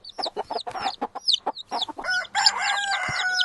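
Children's voices imitate a young chick's peeping, a quick series of high, chirpy calls in an uneven rhythm, close and fairly loud.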